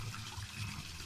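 Spring water running constantly out of a pipe, a soft continuous trickling and splashing stream, steady and fairly quiet with no voices over it.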